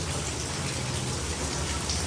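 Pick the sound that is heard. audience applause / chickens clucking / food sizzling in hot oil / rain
rain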